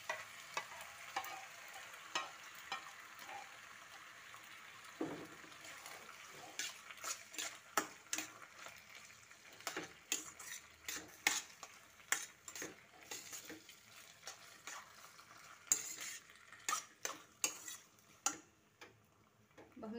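Pasta is stirred into white sauce in a pan, giving quiet, scattered clicks and scrapes of a spoon over a soft background sizzle that grow busier toward the end, with no voices.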